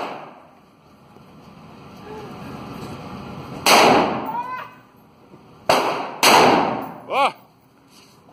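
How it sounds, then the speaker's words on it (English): AR-15 rifle fired at an outdoor shooting range: a few sharp, loud broadband cracks spaced a second or two apart, with people talking quietly between shots. "shooting the AR-15"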